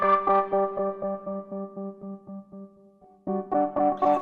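Handbell sample run through drive distortion and a filter gate before a Little Alter Boy plugin, struck in a steady repeated rhythm of ringing tones, then a brighter, more distorted burst near the end.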